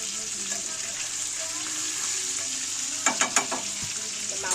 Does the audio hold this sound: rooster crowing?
no